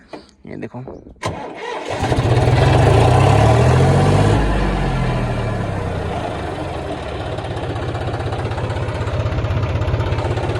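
A John Deere 5104 tractor engine cranks and fires into a loud, steady diesel idle that settles into a rumbling, knocking rhythm, with someone speaking briefly just before it starts.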